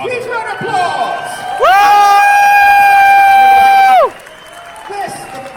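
Audience at a charity auction cheering and whooping, with a loud sustained shout or held cry rising over the crowd noise in the middle before dropping back to quieter murmuring.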